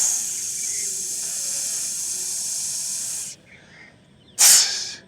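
A voice imitates a bicycle tyre deflating after a puncture with a long, steady, loud hiss of about three seconds, which cuts off before a short sharp burst of hiss near the end.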